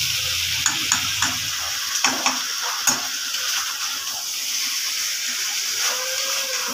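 Pumpkin pieces stir-fried in a kadai with a little water: a steady bright sizzle runs throughout, with sharp scrapes and clinks of the spatula against the pan every so often.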